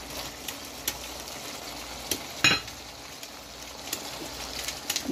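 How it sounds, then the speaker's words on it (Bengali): Shrimp tipped into cooked spice paste in a pan, giving a faint, even sizzle with a brief louder splash partway through and a few light clicks from stirring. "এখন আমি এটাতে আমার যে চিংড়ি মাছগুলো আমি রেখেছি, যে চিংড়ি মাছ এগুলো আমি এখন এখানে সব ঢেলে দেবো।"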